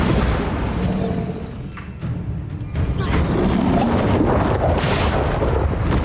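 Bombarda blast spell cast in the video game Hogwarts Legacy, a loud, dense rumbling boom with a brief dip midway before the roar swells again, heavy and sustained.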